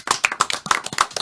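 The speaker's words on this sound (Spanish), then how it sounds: "Un aplauso," Rhythmic hand clapping at a carnival television program, a handful of sharp, close claps in quick succession with no talking.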